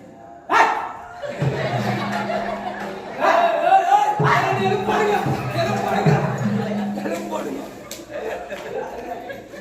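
A dog barks a few times amid a lively outdoor scene, with people talking loudly over it and occasional sharp knocks.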